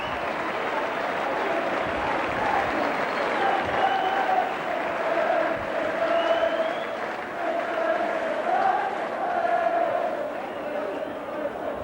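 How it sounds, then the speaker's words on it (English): A rugby league stadium crowd at a Whitehaven versus St Helens cup match applauds and cheers after a try, a broad sustained roar with a commentator's voice running over it. "Just as the applause and cheering dies down"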